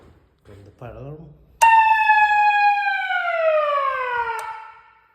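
A fire alarm siren during system testing on Victoria Street in Auckland's CBD gives a loud falling electronic wail after brief speech, holding for about three seconds before fading out.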